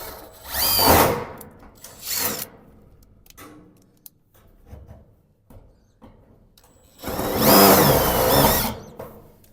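A power drill drives screws into a Colorbond gate in three loud whirring bursts, two short ones close together and a longer one later, with quieter clicks and handling noises between them.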